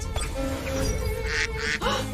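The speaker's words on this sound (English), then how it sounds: "You're a duck." A duck-like creature in the video game Temtem gives a few loud, nasal quacking calls over game music and effects, with no talking.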